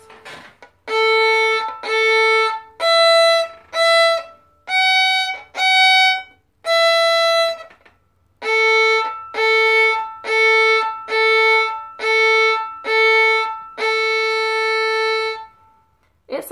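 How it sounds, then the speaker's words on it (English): A bowed violin string plays the rhythmic Twinkle pattern as repeated short notes, each followed by a sustained open A drone, clear and close, in a steady sequence of about a dozen bow strokes with a brief pause midway. "rock your bow to A and finish by droning"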